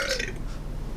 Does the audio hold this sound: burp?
yes